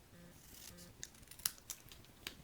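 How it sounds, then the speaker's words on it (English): Paper snips cut a small V into white card stock, giving a few quick, close, crisp snipping clicks over faint background hiss. "I took my paper snips and I just created a little V for the front of my card"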